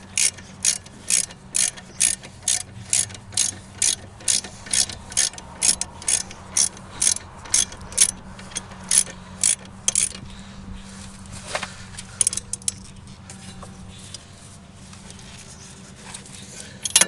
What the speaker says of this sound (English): I'm going to torque those back down with my wrench